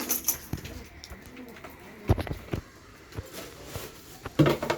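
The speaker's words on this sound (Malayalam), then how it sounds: "ഫസ്റ്റ് നമുക്ക് ആദ്യം പ്രാവുകളെ വിടാം" Pigeons being released outdoors, cooing in soft repeated phrases with a few sharper wing or movement thumps scattered through, fairly close and moderately loud, with no talking.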